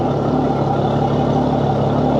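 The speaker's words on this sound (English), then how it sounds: "you can hear, the engine sounds perfect." A Yamaha F300 XSB2 outboard boat motor, about 100 hours in and serviced in Florida, runs at a steady, even idle, loud and close, with no voices over it.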